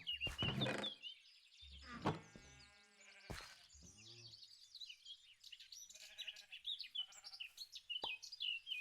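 Sheep in a video game bleat a few times up close, a couple of wavering calls early on, followed by scattered higher chirps and small knocks.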